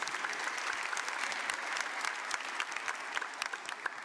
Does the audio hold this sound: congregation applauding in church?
yes